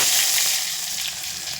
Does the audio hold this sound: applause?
no